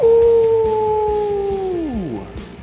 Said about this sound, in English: he lets loose a howl